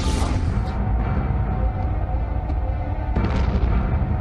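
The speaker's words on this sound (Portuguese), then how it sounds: "a explosão de um magnetar a 10 anos-luz poderia criar o caos cósmico" A magnetar explosion rendered as a loud, deep rumbling blast that roars on continuously without letting up, with a second surge of rough noise near the end and no voices.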